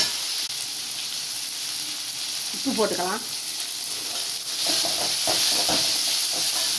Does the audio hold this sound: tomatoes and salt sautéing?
yes